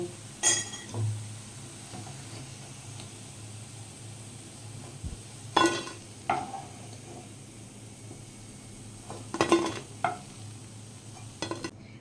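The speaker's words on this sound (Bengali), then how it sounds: "বাকি বড়াগুলো আমি ঠিক একইভাবে ভেজে নেব" Mung lentil fritters fry in hot oil, a soft, quiet sizzle with intermittent bursts of spatula scraping and clinks against the pan, without speech.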